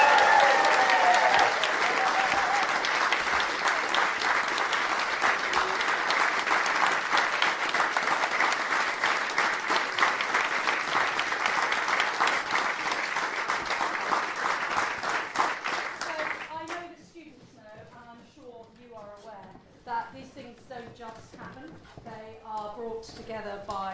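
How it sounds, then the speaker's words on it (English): An enormous round of sustained audience applause for student performers at a school LAMDA evening, dense and loud for about sixteen seconds before fading, after which a voice begins speaking alone. "we're going to raise the roof with an enormous round of applause"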